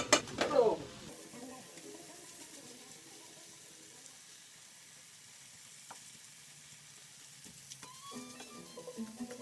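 Rice frying in a pan gives a quiet, steady sizzle throughout, with a few faint clinks and stirring sounds mixed in.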